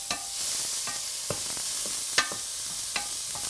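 Salt and pepper being stirred into a baked egg dish, a faint steady sizzle under scattered short scrapes and clinks of a utensil against the pan, close and with no talking.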